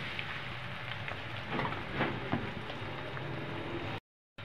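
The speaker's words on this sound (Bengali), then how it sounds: "দিয়ে দেবো পেঁয়াজ কুচি, পেস্টটা আমি একটু হালকা করে ভেজে নেব।" Chopped onion and spice paste fry lightly in a pan for a shrimp and Malabar spinach dish, giving a soft, continuous sizzle that stays even before cutting out briefly.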